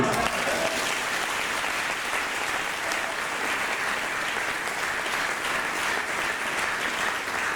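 A church congregation at a regional worship service applauding, dense sustained clapping from many hands filling the room evenly, with faint voices mixed in.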